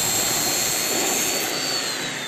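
A cut-off saw slices through wood pieces for a shoe rack bench, giving a loud, dense whining roar that stays steady for a couple of seconds and then eases slightly.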